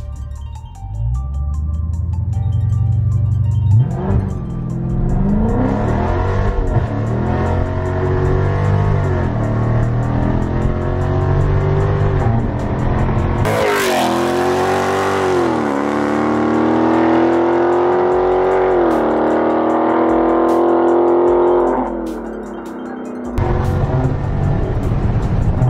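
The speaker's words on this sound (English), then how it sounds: "We're gonna go to launch control, activate launch control" A Dodge Charger SRT revs loudly at launch control, then accelerates hard with a rising engine roar that climbs steadily through the gears, close and continuous before easing off near the end.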